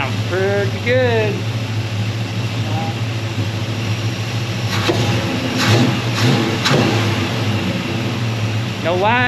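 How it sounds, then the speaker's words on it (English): A Chevelle's carbureted V8 engine idles at about 770 to 800 RPM with a steady low rumble and hum, while someone talks over it at intervals. "We're idling. Pretty happy. At 800, right around 770 to 800 RPM."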